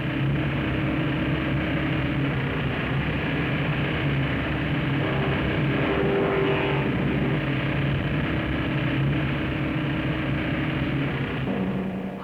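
Rolls-Royce diesel engines of the racing powerboat Spirit of Ecstasy in a 1964 offshore race, a loud continuous roar with steady rushing noise throughout.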